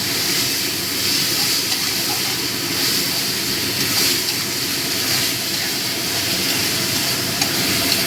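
Lote fish stirred in a pan with turmeric powder, a continuous frying sizzle with soft scraping and stirring noises, steady and close, no talk.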